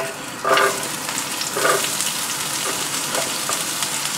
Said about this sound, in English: Start by frying your onions